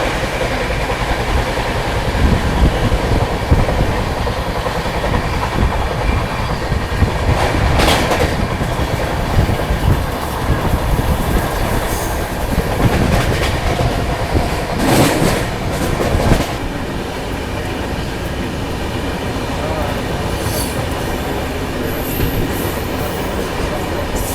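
A passenger train, the 22502 New Tinsukia–SMVT Bengaluru express, rumbles along steadily at close range, with rhythmic clattering of wheels on track and occasional metallic squeals.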